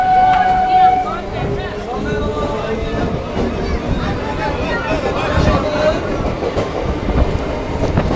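Crowded local train bound for Hasnabad pulls out of Bhaberla station, rumbling and clattering as it gathers pace, with a brief high horn-like tone at the start and passenger chatter and talk over the rail noise.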